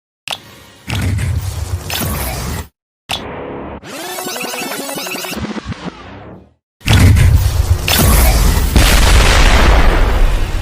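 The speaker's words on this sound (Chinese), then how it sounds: "低频冲击波模拟爆炸的能量释放，表现物质解体" Killer Queen's Bites the Dust explosion effect from the JoJo anime: several loud, deep booming bursts with low shockwave rumble, separated by short silences and swirling, distorted textures between them.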